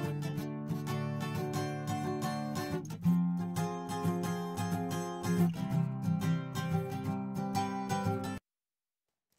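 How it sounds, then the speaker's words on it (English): Stereo acoustic guitars on a recorded mix track strum steady chords with bright, full tone, playing continuously for several seconds before cutting to silence near the end. "And then there's these stereo acoustic guitars here."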